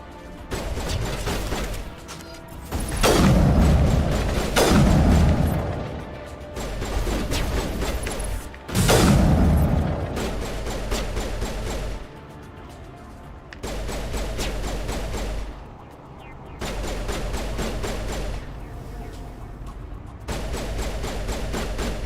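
Gunfire in the video game Mass Effect Legendary Edition, with long bursts of rapid shots repeating in waves, interrupted by short pauses and a few heavier crashing blasts, loud and close throughout.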